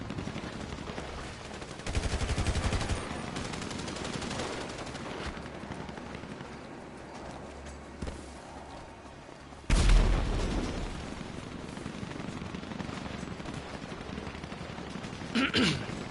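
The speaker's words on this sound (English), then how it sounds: "I'm terrible at shooting on this game" Video game gunfire in bursts and single shots, with a louder burst near the middle, set against a dense background of game sound and muffled noise.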